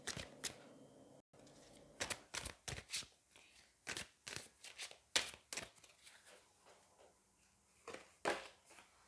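Angel oracle cards being drawn and handled from a deck, giving a string of crisp, close paper snaps and flicks in an irregular rhythm, with no voice over them.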